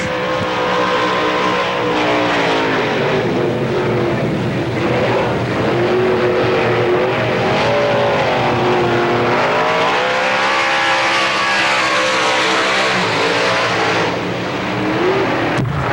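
Race car lapping Pennsylvania Motor Speedway in qualifying, a loud, sustained engine roar whose pitch rises and falls as the car sweeps around the oval and passes by.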